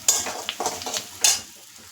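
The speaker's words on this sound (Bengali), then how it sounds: "এবার লাল করে খুব ভালো করে ভাজি তো আলু বেগুন পেঁয়াজ" Potato, eggplant and onion fry in hot katla fish oil while a spatula stirs them, making a close sizzle broken by several quick scraping strokes and a louder hiss near the end.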